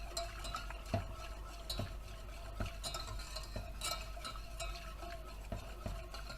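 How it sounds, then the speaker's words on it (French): A spoon stirs egg yolk velouté in a pan with a continuous, rhythmic scraping, quiet and close, with faint clinks against the metal. "Continuez de mélanger pour obtenir le velouté."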